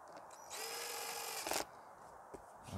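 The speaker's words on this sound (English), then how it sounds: "and you get your drill." A power drill whirs steadily for about a second, then a brief louder burst of grinding as a screw seats, followed by quiet clicks.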